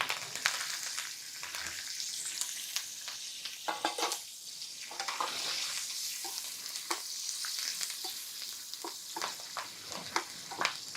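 Green chillies and curry leaves sizzle in hot tempering oil with asafoetida in a small pan, a close, continuous frying crackle broken by repeated scraping stirs and sharp pops.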